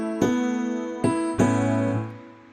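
Keyboard voice layered with piano, three struck chords ringing out one after another, the last held and decaying, close and clear with no talking.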